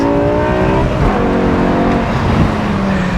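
A BMW E60 M5 with its V10 engine roars loudly and steadily while driving hard, its revs climbing through the gears in sustained harmonic tones, with faint tyre noise underneath.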